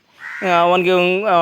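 A single long, harsh crow caw rises quickly and holds loud and close for over a second, sounding like a human voice imitating the call.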